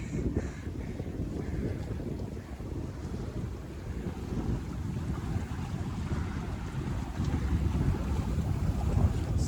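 A sailboat moves under sail alone with its engine shut off, wind buffeting the microphone and water rushing along the hull in a continuous broad roar that swells slightly louder toward the end.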